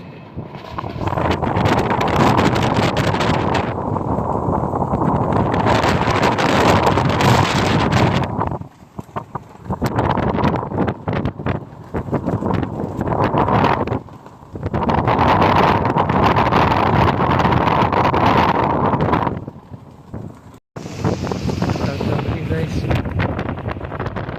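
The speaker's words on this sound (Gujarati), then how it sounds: "પવન ને વરસાદ એક સાથે વરસાદ છે" Strong gusty wind roars and buffets the microphone in long loud bursts with brief lulls, carrying rain within the steady broadband rush during a storm at sea.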